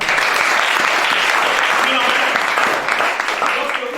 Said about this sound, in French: Acclamons Shaddai